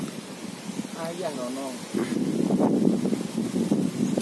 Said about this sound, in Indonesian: ini juga sudah mulai gerimis disertai dengan angin yang sangat kencang